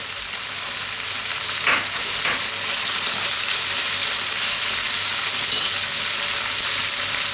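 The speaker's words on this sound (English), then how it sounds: "Next up, we're going to add the ginger and the chopped garlic" Ginger and chopped garlic stir-frying with beef in a hot wok, a loud continuous sizzle holding steady throughout, with a couple of faint clinks from stirring near the start.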